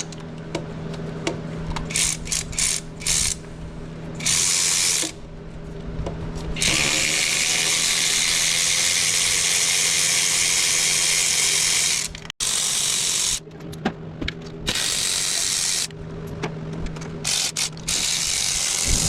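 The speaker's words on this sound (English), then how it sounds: "5/8 spark plug socket for the win" A hand ratchet with a 5/8 spark plug socket turns spark plugs on a 2004-2012 Chevy Colorado/GMC Canyon engine, giving close, dense clicking bursts that come and go in several stretches over a steady low hum.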